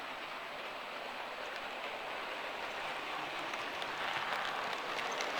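A Bachmann 9F model steam locomotive runs on a model railway, a steady soft rushing rattle of wheels on track, moderately faint and continuous, growing slightly louder toward the end.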